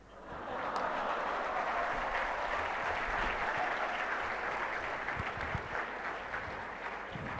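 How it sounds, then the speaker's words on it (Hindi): A lecture audience breaks into steady applause that starts abruptly, holds at an even, moderately distant level for several seconds, then gradually thins. "आप तालियां बजा रहे हो"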